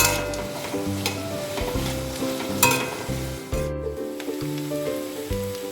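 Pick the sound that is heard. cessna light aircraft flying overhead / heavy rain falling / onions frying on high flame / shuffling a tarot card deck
onions frying on high flame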